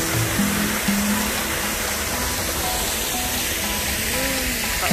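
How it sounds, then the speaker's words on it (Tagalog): Steady broadband rush of a waterfall fills the scene continuously at moderate level, with faint voices and tonal sounds in the background. "Ayan ang falls dito."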